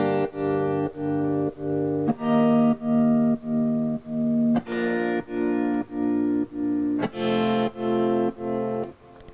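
A real guitar plays chord by chord, then is chopped together into an electronic music track. It comes through as a steady run of about a dozen evenly pulsed chord stabs, distorted and effected, loud and alone.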